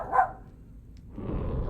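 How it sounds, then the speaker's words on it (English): A dog barks twice in a small indoor space, one sharp bark at the start and another at the end, with a quiet stretch of room noise between them. "Why are you barking right now?"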